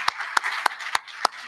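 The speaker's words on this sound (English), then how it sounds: "I'll give them a round of applause." Audience applause at the close of a moot court event on presidential treaty withdrawal powers, heard as sparse, near, individual hand claps about every third of a second over a soft bed of further clapping.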